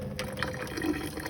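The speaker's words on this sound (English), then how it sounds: "here's the mocha pot off the heat now, and I'm going to just pour it" Water poured from a Bialetti Alpina moka pot, a short steady trickle and splash of liquid heard close up with no talking.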